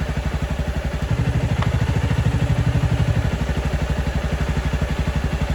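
A motorcycle engine runs on a very lean gasoline mixture with its airflow restricted, giving a steady, close, rapid chug of firing pulses that swells slightly midway and holds evenly throughout.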